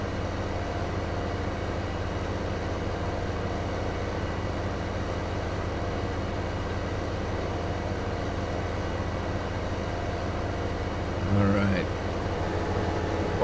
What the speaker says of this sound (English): I heard the sound of that harvester and I thought it was another train coming